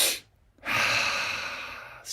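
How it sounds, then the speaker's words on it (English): Breathwork exercise sniffs: a short sharp inhale through the nose, a brief pause, then a long sustained nasal inhale, close and clear with no talking. "Long sniff, fill up your belly. Strong sniff into your head."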